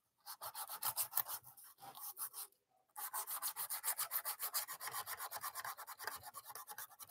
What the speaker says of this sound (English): The sanding, the feel-good sanding zone